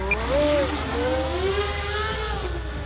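Electric motor of a DIY Mighty Mini Pietenpol model plane at about half throttle, a steady whining drone with gently shifting pitch, sustained and fairly close throughout with no talking.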